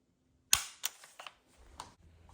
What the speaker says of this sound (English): No mag, and we'll get a nice trigger pull here.